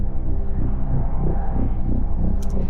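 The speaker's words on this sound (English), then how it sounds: "the second one is a higher layer with some modulation" A higher sound design layer for an animation, with slow modulation and bits of movement, sits steadily over a dense low bed, continuous and moderately loud, with a brief bright flicker near the end.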